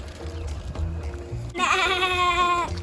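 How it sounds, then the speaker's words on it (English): Baby goats bleat loudly at a dairy farm petting zoo, a run of quivering, sustained cries in the second half following quieter shuffling and background murmur. "You guys see the baby goats?"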